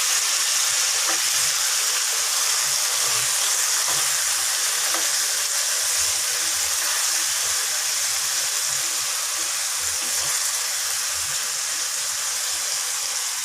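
Vegetables fry in a pan on a stove, a steady broadband sizzle and hiss holding evenly throughout with faint scattered stirring ticks underneath, no talk.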